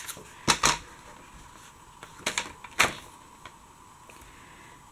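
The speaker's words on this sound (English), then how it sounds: "I'll use my paper trimmer again." A paper trimmer slices card stock, giving a few short, sharp scraping swipes close by, clustered in two bursts with quieter handling noises between.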